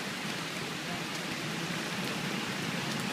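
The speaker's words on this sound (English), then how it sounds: "in this pouring rain" Heavy rain pours down at an outdoor protest demonstration, a dense, even hiss of drops on surfaces filling the air steadily at moderate level with no clear voices.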